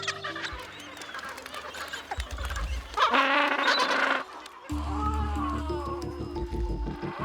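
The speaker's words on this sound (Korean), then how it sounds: "불청객이 찾아왔다. 펭귄의 천적인 남극 도둑갈매기다." Harsh, loud calls from an Antarctic skua near a chinstrap and gentoo penguin colony on King George Island, coming in several bursts with some wind and other bird noise around them.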